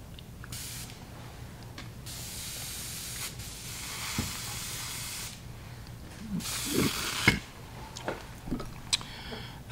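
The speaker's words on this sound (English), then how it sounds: "Quick rinse of the airbrush." An airbrush sprays in short hissing bursts during a quick rinse, several separate blasts of air and water mist with small clicks and taps between them, close and fairly soft.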